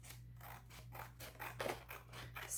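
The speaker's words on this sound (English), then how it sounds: "let me see what scissors I want to use" Scissors cutting out paper tags, a close series of rhythmic snipping and scraping strokes at a quiet level, with a faint steady hum underneath.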